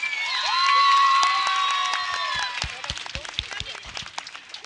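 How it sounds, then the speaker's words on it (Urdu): A crowd at a school annual function breaks into loud cheering and shouts, which settle into a steady run of sharp, close handclaps. "آج ان کے لیے زوردار تالیاں"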